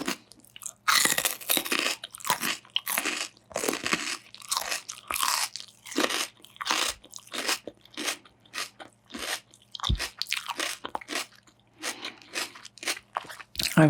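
Raw kohlrabi being bitten and chewed up close, with loud, crisp crunches repeating in irregular bursts over roughly fourteen seconds and no talking.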